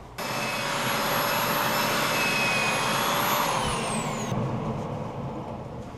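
A holly chopping bowl spins on a wood lathe while its inside is sanded, giving a loud, steady whirring rush with a high motor whine that stops near the end, close and with no voices.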